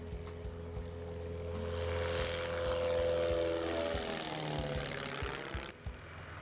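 A small propeller airplane departs from a rainy mesa airstrip, its engine drone rising and passing with a falling pitch, loud and steady, then receding over a faint ticking.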